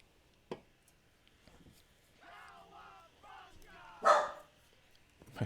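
A dog barks indoors: a sharp yip, then a stretch of whining, whimpering sounds, and a louder bark near the end, against a quiet background.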